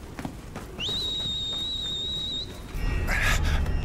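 A steed-calling whistle in the video game Final Fantasy XVI gives one clear sustained tone that rises briefly and holds for under two seconds, followed by a burst of game noise.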